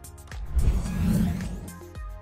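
A car engine revs in a loud surge that rises and holds, then falls away, with a brief mechanical whir near the start and end.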